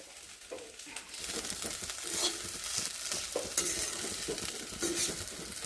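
Sliced bitter gourd, okra and potatoes sizzle and fry in a pan on a home stove. A utensil stirs and scrapes through them with rustling strokes, close and continuous.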